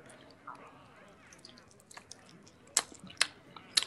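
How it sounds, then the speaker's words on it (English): Loud, wet chewing and mouth smacking from a player close to a microphone during a competitive gaming match, with sharp smacks near the end and faint talk in the background. "That's the loudest chewing I've ever heard."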